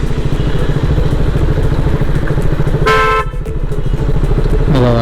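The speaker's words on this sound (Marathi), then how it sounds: "बघा पूर्ण ट्रॅफिक जाम आहे." A motorcycle idles and creeps in a night traffic jam on the Mumbai-Goa highway, a close steady engine drone with vehicle horns honking twice, one long toot mid-way and another at the end.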